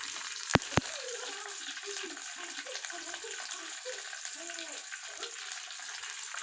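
Curry leaves, dried red chillies and green chillies frying in a pan for Telangana-style sambar, a steady soft sizzle throughout with two sharp pops near the start and faint clattering in the background.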